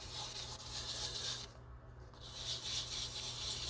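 High-grit wet sanding on a guitar's sparkle paint finish during a chip repair, a soft, quiet rubbing scrape that runs continuously, with a brief lull midway before the strokes resume.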